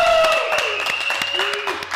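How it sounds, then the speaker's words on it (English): Audience applause for a camera operator at a talk-show style meeting, a brief burst of clapping at moderate volume with voices and tonal sounds mixed in. "Give it up for Raiden, our camera guy"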